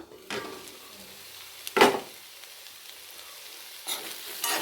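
Raw papaya stir-fry (omakka mezhukkupuratti) being stirred in a pan, with three separate bursts of spatula scraping and a soft sizzle, the middle stroke the loudest, and quiet gaps between them.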